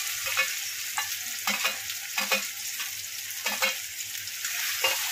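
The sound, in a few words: tomatoes and green chilies frying in oil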